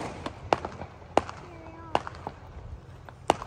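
Fourth of July fireworks bursting outdoors, four sharp loud bangs spaced about a second apart with smaller pops and crackles between, under a faint whistle.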